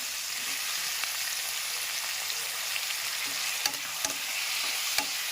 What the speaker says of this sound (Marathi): छान आपण हे सगळं तेलावर परतवून घेणार आहोत